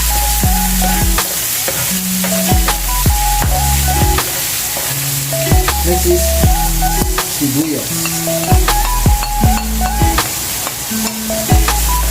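Garlic frying in a pan for pork giniling, a loud continuous close sizzle with repeated clicks and scrapes of a utensil stirring, no talking.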